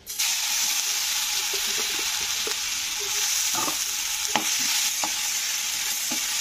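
Grated ginger frying in hot oil with a pinch of turmeric in a kadai, a steady hissing sizzle broken by several light spatula taps and scrapes, close and without voices.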